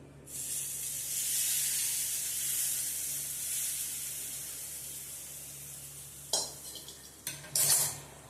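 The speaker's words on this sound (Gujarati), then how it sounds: "અને હવે આપણે આ ચટણી ઉપર વઘાર કરી દેસવાની" A loud, steady sizzle of hot oil tempering with curry leaves poured over bottle gourd chutney, hissing evenly for several seconds, then a few sharp clinks of a utensil near the end.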